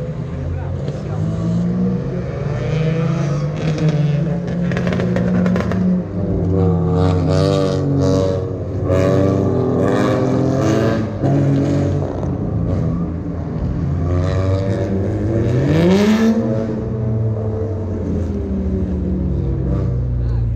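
A car engine idles and revs with rising and falling tones, heard up close under someone talking, at a hot-lap event with a Porsche.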